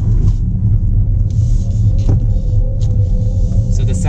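A 1341 hp Chinese electric car's pedestrian warning sound plays from its external loudspeakers, a loud, steady low droning hum with a faint tonal whine above it, continuous throughout.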